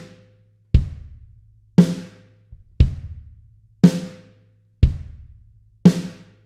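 A drum kit plays a simple beginner beat, kick drum on beats one and three and snare on two and four, giving evenly spaced, punchy alternating hits with short decays and clear silence between strokes.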